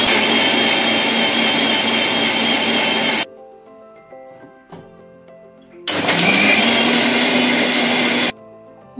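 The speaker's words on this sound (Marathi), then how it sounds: "मिक्सरमध्ये हा बघा सगळं वाटून घेतलं" An electric mixer grinder grinds a ripe mango mixture in two loud whirring bursts separated by a quiet pause, each starting and stopping abruptly close by.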